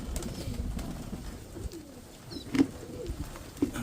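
A Mykolaiv pigeon gives a couple of soft, low coos against a quiet outdoor background, with no one speaking.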